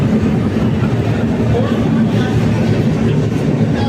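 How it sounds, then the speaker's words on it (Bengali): Steady rumble of a passenger train rolling along the tracks near Malda Town station, with a dense low roar and faint rhythmic clatter throughout, no pauses. "আমাদের ট্রেন এখন চলে এসছে মালদা টাউন স্টেশন।"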